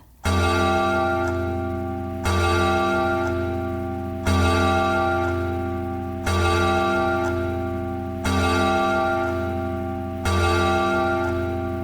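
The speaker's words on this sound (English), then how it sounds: "The bell struck 12." A deep bell strikes twelve, tolling slowly and steadily, each loud stroke ringing out and fading before the next, about every two seconds.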